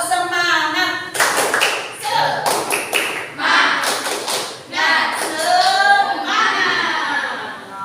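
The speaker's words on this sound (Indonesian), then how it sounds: "Tepuk semangat." A school class performing the tepuk semangat clapping chant, with children's voices chanting in rhythm between sharp bursts of group hand claps and taps, close and loud.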